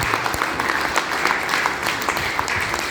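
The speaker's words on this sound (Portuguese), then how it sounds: "Você pode dar uma salva de palmas para Jesus?" A church congregation gives a round of applause for Jesus during a worship service, dense steady clapping from many hands filling the room at moderate loudness, with no voices standing out.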